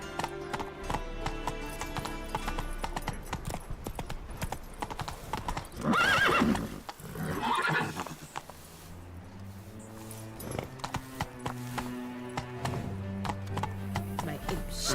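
Horse hooves clip-clop at a steady gallop in The Witcher 3 video game, with a loud neigh and whinny bursting out midway over a game soundtrack of music and ambience.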